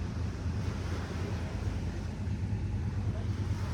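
Ocean waves roll in a steady low roar while wind buffets the microphone, a continuous even wash of surf noise with no distinct breaks.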